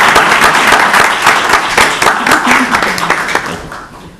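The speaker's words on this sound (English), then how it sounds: "If everyone would join me in a round of applause or raise the roof" A room of people at a town council meeting applauds, a dense, steady patter of many hands clapping at close range that slowly thins toward the end, with some talk mixed in.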